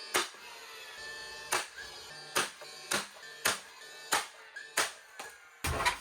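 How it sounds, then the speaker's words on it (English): Hammer nailing pieces of wooden edge formwork together for a concrete countertop: about nine sharp, loud, close blows at an uneven pace, with quiet pauses between them. "I'm literally going to nail these pieces to one another."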